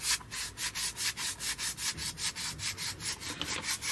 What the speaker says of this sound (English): almost finished sanding that to a taper